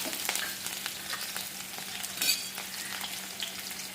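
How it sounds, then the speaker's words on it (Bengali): Black cumin seeds and dried chillies tempering in hot oil, a steady bright sizzle with faint crackling pops, close by, with a brief louder spatter midway and no talking. "আমি কালো জিরা আর শুকনো লঙ্কা ফোড়নে দিয়ে দিলাম"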